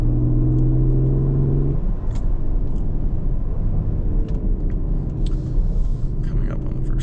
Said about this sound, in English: Even though it's an EcoBoost V6, it does still sound pretty amazing